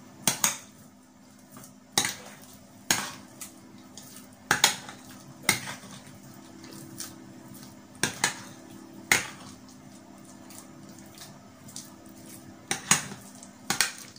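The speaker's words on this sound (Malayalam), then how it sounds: "ക്രീം ഒഴിച്ചിട്ട് ഇതുപോലെ നന്നായി നമുക്ക് ഇളക്കിളക്കി നന്നായി യോജിപ്പിച്ചെടുക്കാം." Mashed potatoes are stirred with cream in a bowl, a spoon knocking and scraping against the dish in repeated irregular clinks over a quiet background.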